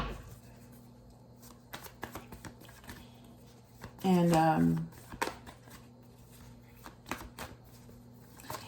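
Cards are shuffled close up in a rapid riffling flurry lasting under a second, amid scattered soft clicks and handling taps, with a brief word spoken.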